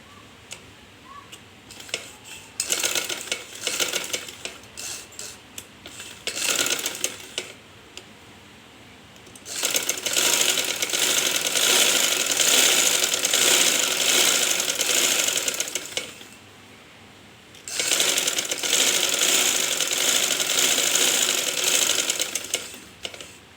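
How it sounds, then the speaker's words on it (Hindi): A sewing machine stitches a gents' suit in bursts: a short rattling run, a pause, then two long loud stretches of rapid, even mechanical whirring with quiet gaps between. "अब हम इसी के ऊपर अपनी दूसरी सिलाई मुकम्मल करेंगे।"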